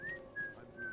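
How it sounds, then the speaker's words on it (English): Whistling in a Destiny 2 Festival of the Lost scene, a tuneful, steady whistle with gently sliding pitch, sustained through about a second in three connected phrases, clear and fairly close with no talk over it. "Yeah, quit whistling."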